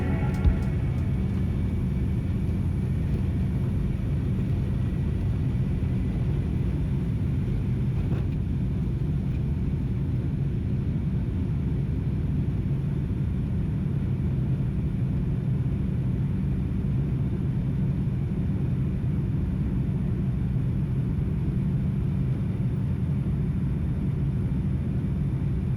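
Steady low airplane cabin rumble from the engines on a long-haul flight to Tokyo, a constant broadband roar with no breaks, loud and even throughout.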